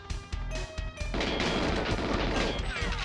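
Phantom gun firing in the GoldenEye video game on the Frigate level, a few separate shots at first, then a long rapid burst of loud automatic fire running to the end.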